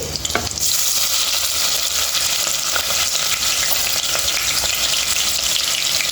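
Cumin, mustard seeds, green chilies and onion fry in hot oil, a loud, close, continuous sizzle with some stirring, steady throughout with no talk.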